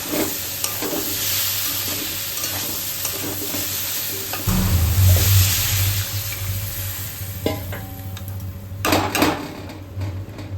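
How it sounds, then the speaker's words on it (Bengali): Potato and soya chunks fry with spices in a pan, a continuous close sizzle with steady stirring scrapes that grows louder and thicker midway, with a few sharper clatters near the end. "মশলার সাথে আলু সয়াবিনটা কিছুক্ষণ কষিয়ে নিচ্ছি"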